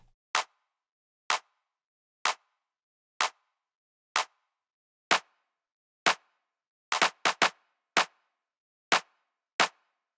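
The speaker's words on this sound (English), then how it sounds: "then there's a more of a 808 909 clap" An 808/909-style clap sample for minimal house repeats steadily about once a second, with a quick cluster of extra hits near the seven-second mark; each clap is short, crisp and isolated.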